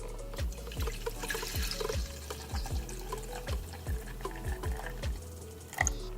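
Hemp milk pours from a carton into a pot on the stove, a soft liquid splashing at close range with a series of regular low thumps and glugs underneath.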